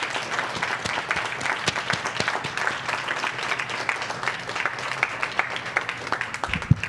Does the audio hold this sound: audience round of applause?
yes